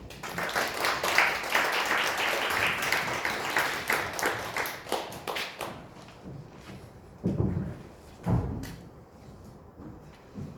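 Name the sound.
audience applause welcoming a guest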